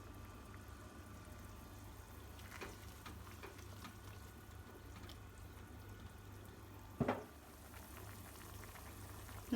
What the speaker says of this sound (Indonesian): ini udah mendidih, masukkan buncis